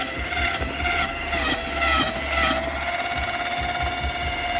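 Corded drill with a paddle mixing drywall texture mud in a bucket, a steady loud motor whine with a churning, sloshing grind that pulses as the paddle moves through the thick mix.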